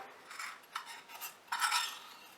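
A rubber spatula scrapes stuck sugar from a cup into a pan, giving soft, close scraping strokes in several short bursts, with no one talking.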